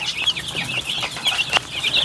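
Young pullets clucking and chattering continuously as they rush to water, several birds close by, busy and fairly loud with no talking.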